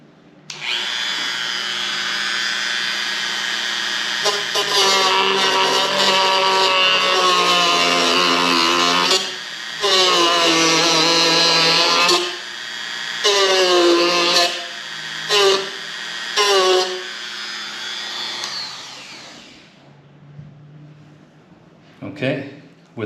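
Dremel rotary tool cutting a car door card on a GR86/BRZ, a high-pitched whining buzz in repeated bursts whose pitch dips under load, fading out at the end, with a person speaking over it.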